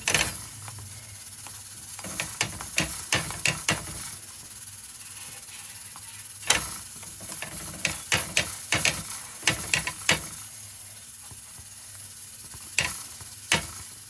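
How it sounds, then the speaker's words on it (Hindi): A ragi, jowar or maize roti roasting on a hot pan in a home kitchen, giving a continuous close sizzling hiss broken by irregular sharp taps and scrapes of handling, with no talking. "अपनी रोटी जो है वो सेक लेते हैं"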